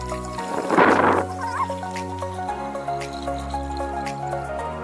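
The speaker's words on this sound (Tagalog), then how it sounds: "Lalagyan lang natin ng tubig." Water poured into a homemade drip-irrigation container for plants gives a brief splashing gush near the start, then a quieter trickle over steady low background hum.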